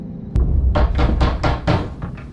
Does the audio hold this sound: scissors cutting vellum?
no